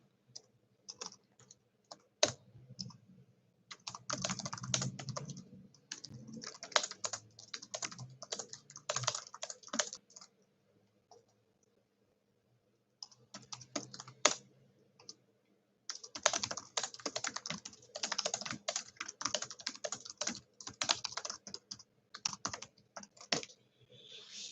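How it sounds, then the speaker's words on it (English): Someone types at length on a computer keyboard in a home room, producing rapid bursts of close, crisp key clatter broken by short pauses and one longer quiet gap midway, with no talking. "I'll just type it to give my throat a break"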